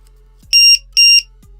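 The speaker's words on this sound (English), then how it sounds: "all of a sudden you hear this loud beeping noise" Two loud, high-pitched electronic beeps from a low-voltage cell checker alarm on an Arrma RC car battery, in quick succession, sharp and piercing, with silence around them.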